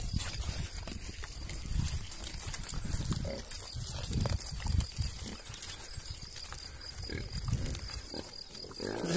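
Pigs on a central Portuguese farm, among them a black Iberian pig, grunt and snuffle close by while being fed sweet treats, a steady stream of low grunts over background noise, with faint voices in places.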